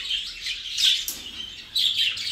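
Jumbo budgerigars in a breeding aviary chirp and chatter in quick overlapping bursts, close and fairly loud against a soft room background, with no voices.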